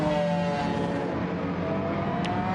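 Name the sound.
McLaren F1 BMW race car engine in a racing video game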